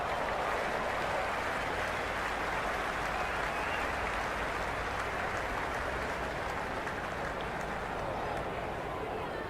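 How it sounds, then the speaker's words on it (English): A large cricket crowd at an IPL 2026 match between RR and GT roars and applauds after a big hit, a steady, dense wall of cheering and clapping that holds loud throughout. "The crowd are loving it."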